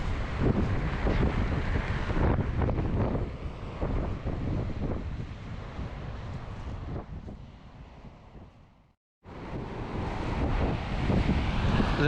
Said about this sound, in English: The noise of these waves tonight is just something special out here.